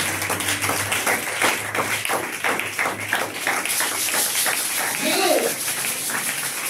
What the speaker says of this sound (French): De fortes acclamations au Seigneur Jésus.